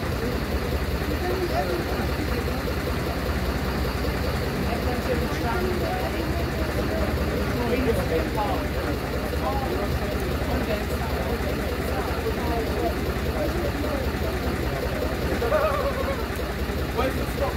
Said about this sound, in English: look at the engine as well